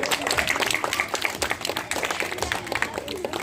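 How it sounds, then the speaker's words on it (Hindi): Audience applause at a Hindi fortnight school prize distribution ceremony, steady crowd clapping filling the hall for several seconds, with some voices mixed in. "ताली बजाइए।"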